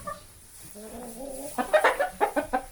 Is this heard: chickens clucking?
yes